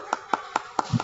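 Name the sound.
class applauding group 1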